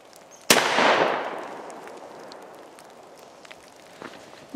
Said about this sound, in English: Light gallery load on log.